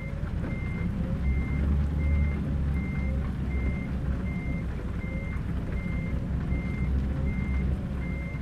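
A truck's reversing alarm beeps in a steady, evenly spaced rhythm over a low diesel engine rumble in American Truck Simulator, continuous and moderately loud.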